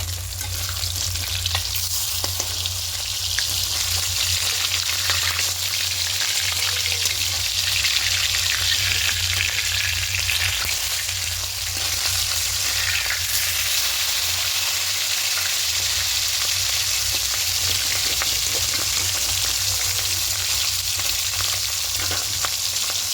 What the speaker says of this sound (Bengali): মাছগুলো সব উল্টে নিলাম এগুলো ভাজা হয়ে যাচ্ছে